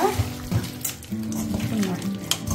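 Chicken is mixed by hand into a biryani marinade, with wet, squelching stirring and mixing sounds close up and a soft clink of a pot, while a voice talks over it.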